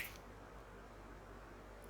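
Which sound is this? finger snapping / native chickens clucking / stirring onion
finger snapping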